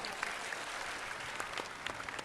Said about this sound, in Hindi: वाह, ताली बजाओ।